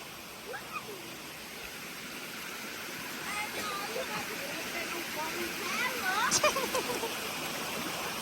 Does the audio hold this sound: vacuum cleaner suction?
no